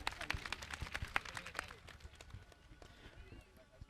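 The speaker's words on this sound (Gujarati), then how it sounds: "ફરીવાર આવી રીતના તાળીઓથી આપણે એમને વધાવશું." An audience claps at a Gujarati school get-together after a group of girls performs a patriotic song. The clapping is dense and steady at first, then thins and fades.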